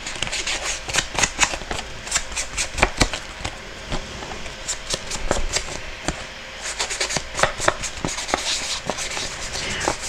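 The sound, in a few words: sponging ink around a piece of paper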